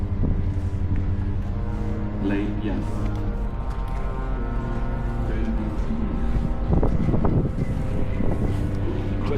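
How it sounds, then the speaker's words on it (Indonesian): Steady wind buffets the microphone with a low rumble at Auschwitz, Poland, while a voice talks over it and a motor hums in the background. "Cuaca hari ini cukup berangin dan nggak terlalu dingin sih teman-teman."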